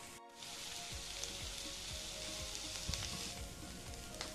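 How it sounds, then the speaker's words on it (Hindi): Prawns frying in a pan over a medium flame, giving a steady, even sizzle with soft crackles and pops throughout, fairly quiet and with no talk over it. "एबे याको मीडियम फ्लेम रे एमिति छाड़ देबा से ऑटोमेटिक भजा हो जिवो"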